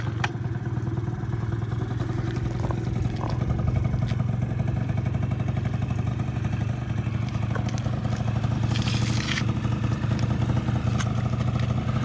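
A Honda Topic 49cc two-stroke scooter engine runs steadily after a kickstart, a close, constant buzzing idle with a rapid pulsing beat and occasional light clatter, with no talking.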